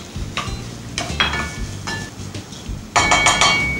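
Chopped bacon and onion fry in hot fat in a pan, giving a steady close sizzle with stirring scrapes and clinks that grow louder near the end; no one speaks.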